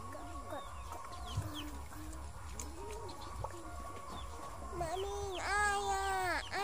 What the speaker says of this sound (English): And this one, what is that? What is that? Chicken.